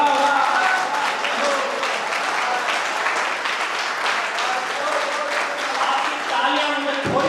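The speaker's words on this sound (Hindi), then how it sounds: "आपकी तालियां मुझे थोड़ी सी कमजोर नहीं करने को क्या छोड़ेगी।" Loud, steady applause from the crowd at a Hindi kavi sammelan featuring heroic-mood poetry, a thick roar of clapping sustained for about seven seconds with a voice sounding over it.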